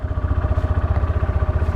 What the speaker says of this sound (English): That's the first startup.